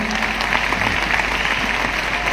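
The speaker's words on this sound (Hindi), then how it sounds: "तालियां जोरदार बजाइए जाने को" A large audience applauds steadily and loudly throughout, a dense continuous wash of clapping.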